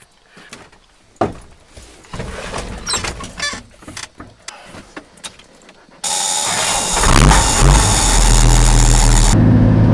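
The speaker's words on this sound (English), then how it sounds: "So driving in the truck right now, the issue is with the bad muffler, it's kind of loud" A dump truck with a bad, loud muffler driving, its engine starting and then settling into a steady, loud exhaust drone after a few seconds of door and cabin clatter, with no talk.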